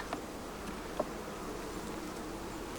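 Honey bees swarming around a hot, defensive beehive during fall feeding, a steady dense buzz filling the air close by with a few faint ticks, no voices.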